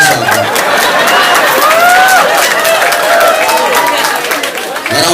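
A congregation at an Islamic sermon by a preacher gives dense, loud applause mixed with crowd voices, filling the space evenly before easing off near the end.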